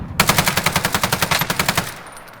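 KG assault rifle fired in Warzone Rebirth, a steady full-auto burst of about fifteen evenly spaced shots, loud and close, then a short fading tail.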